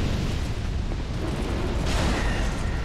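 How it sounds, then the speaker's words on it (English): Bomb blast in the Dark Souls 2 Scholar of the First Sin game, a steady loud rumbling roar with a brighter burst near the end, heavy low-end noise throughout. "Okay, you're throwing bombs at me."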